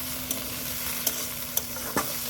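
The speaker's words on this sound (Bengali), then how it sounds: "শাক ভাজিটা মনে হয় পোড়া লেগে যাচ্ছে না কি?" Bengali leafy greens (shak) fry in a pan and start to catch on the bottom, making a constant soft sizzle broken by a few sharp taps and scrapes of a spatula.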